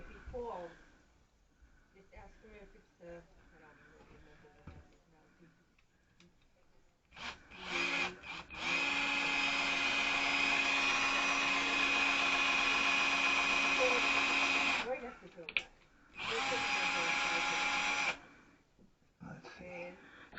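A power drill whirs in two sustained bursts, a long steady run then a shorter one, while removing screws to install a safety bar in a 2003 Caravan; quieter handling noises and a voice come before and between.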